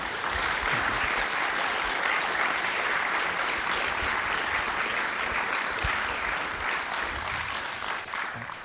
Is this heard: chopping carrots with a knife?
no